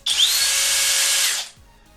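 A cordless drill's motor whines at high speed, a steady bright buzz held for over a second before spinning down and stopping.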